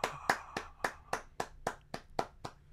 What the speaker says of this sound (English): We gotta find a good applause. Trying to find an applause app.